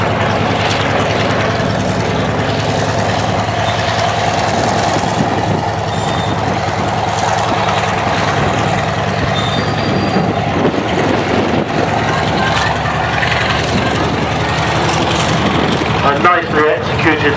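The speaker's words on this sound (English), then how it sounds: "A nicely executed line of breast loop there by the Yak 50 and Yak 52" Yak 50 and Yak 52 aerobatic aircraft trailing smoke through a loop at an airshow, a loud continuous engine roar under steady commentary.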